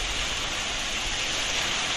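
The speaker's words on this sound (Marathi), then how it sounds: "आता जाम जोराचा पाऊस आला मुसलधार पाऊस आला" Heavy monsoon rain pours down steadily over Konkan paddy fields, a dense, even hiss with no breaks, loud and close.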